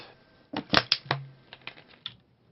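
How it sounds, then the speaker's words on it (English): A deck of cards for a DC Comics deck-building game is shuffled, giving a short cluster of crisp flicking clicks followed by a few softer taps, close up and quiet. "let's go ahead and shuffle this up"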